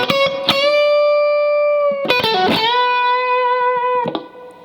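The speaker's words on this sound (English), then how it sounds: "now moving on to the final lick of line number 2" Distorted electric guitar playing the closing lick of a guitar solo line: long sustained bent notes with a few picked attacks and a final decaying note, loud, with no voices.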